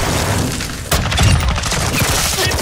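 A grenade goes off in Call of Duty Modern Warfare II Warzone 2 gameplay, a sharp, loud blast that breaks into a dense crackling rumble amid ongoing gunfire-like bursts.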